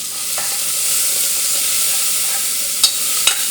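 Fenugreek leaves, ginger-garlic and turmeric fry in hot oil for a potato curry, giving a steady close sizzle with a couple of sharp stirring clicks near the end.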